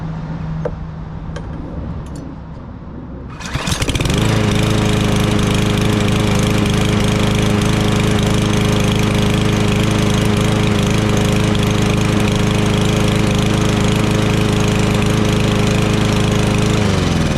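Cub Cadet lawn mower engine starting up after a few seconds of quiet handling noise, then running loud and steady at close range with a constant drone and rattling mechanical clatter throughout.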